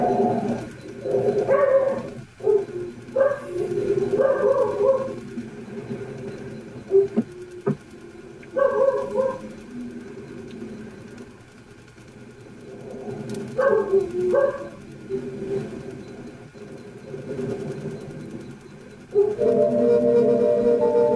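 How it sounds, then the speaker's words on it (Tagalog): Something like a dog or wild animal makes repeated low, moaning, coo-like calls in bursts outside a room at night, fairly loud and near, with quieter gaps between them. "Malinaw na maririnig sa bidyong ito ang mistulang tunog ng isang mabangis na hayop o ng isang aso na mukhang nasa tapat nga lang ng kanyang kwarto."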